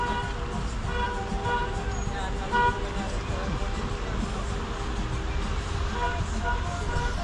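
Car horns toot from a passing wedding procession on a street, steady traffic noise underneath with a short sharp honk standing out, while people talk nearby.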